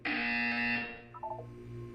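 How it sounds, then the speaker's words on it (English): A harsh electronic buzzer blares in the video game Portal, one long loud tone for under a second, followed by a softer game-room hum and a few brief beeping tones. "You will hear a buzzer."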